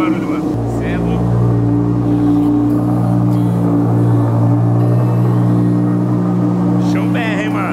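An Audi R8 engine fires up after a brief pause and settles into a loud, deep, steady idle with a rumbling sports exhaust, while people talk over it.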